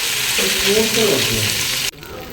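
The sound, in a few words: soybeans frying in a pan on the stove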